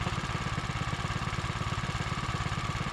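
A Monster 212 minibike engine with a custom wrapped exhaust idles steadily up close, a continuous low throbbing chug with fast, even pulses and no talk.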